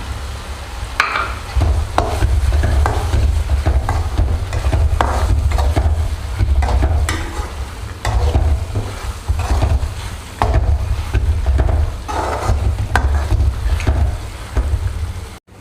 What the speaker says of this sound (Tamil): இது கூட நம்ம பட்டாணி சேர்த்துக்கலாம்